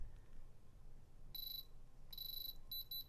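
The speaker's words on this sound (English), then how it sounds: "The rapid beeping means I'm hitting metal." A handheld diamond tester, used on a tiny stone set in jewelry, gives rapid bursts of high electronic beeping against a noisy background. Three short clusters of beeps come close together and loud.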